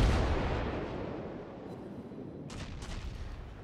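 Secondary guns of a warship firing in World of Warships, a loud booming blast that rolls into a long, fading rumble, with softer distant reports arriving near the end.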